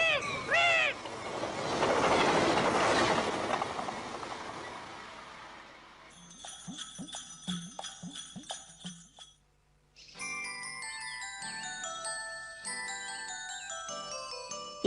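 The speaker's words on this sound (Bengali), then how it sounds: "ট্রেন আইতাছে" An approaching train in a cartoon, a rising rumbling rush followed by clattering wheel rhythm and bright jingling tones, fairly loud, with a short pause before the chiming resumes.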